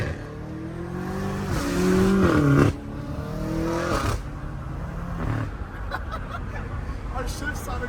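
A straight-piped BMW M5 accelerates hard and shifts gears, with a loud, rising engine note that cuts off sharply at the shifts, heard from nearby over people talking.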